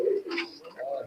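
A brief, close coo from imported Oman teddy pigeons, a single soft throaty call lasting about a second.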